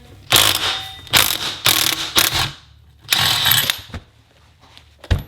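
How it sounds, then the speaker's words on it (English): Impact gun removing the shock mounting plate from a Land Cruiser shock, several loud, close rattling bursts of hammering in quick succession with short pauses between them, ending in a brief final burst. "I'm just going to blast it with the impact gun"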